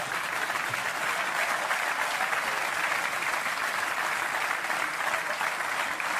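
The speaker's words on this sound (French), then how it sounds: "Et vous applaudissez parce qu'on le sait tous ici." Comedy show audience applauding a joke about raclette, a sustained wash of many hands clapping, even and full, holding steady for several seconds with no voices over it.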